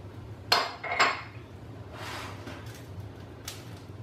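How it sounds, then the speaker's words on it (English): Chiles, onions and other ingredients dropped into a blender jar, giving two sharp clattering knocks close together, then a softer sliding rustle and one more light knock, with no talking. "now I'm gonna drop all these other items into my blender"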